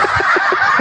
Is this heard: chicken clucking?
yes